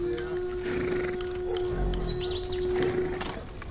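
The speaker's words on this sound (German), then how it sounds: "Vögel." Birds chirp and tweet in short repeated bursts over a steady hum and busy background, fairly close, in a 3D stereo soundscape used for attention training.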